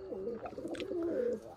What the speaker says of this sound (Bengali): কালশিরা ব্রিডের কবুতর, অনেক পুরনো কবুতর।